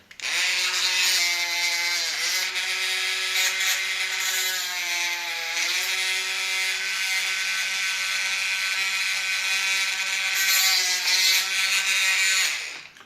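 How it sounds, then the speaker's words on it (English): A small drill whines steadily at high pitch, continuous and close, with brief dips in speed as it bites into 3D-printed parts for an animatronic eye mechanism. "So make sure when drilling the holes that you do it straight."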